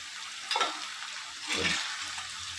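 Tomatoes and onions frying for shahi paneer gravy, a soft continuous sizzle with two brief stirring swishes in the pan, close and moderately quiet, with no voices.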